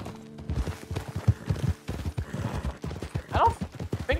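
Horse hooves clip-clopping steadily in Red Dead Redemption 2, a rapid rhythmic trot under continuous game music and ambience, with a brief whinny near the end.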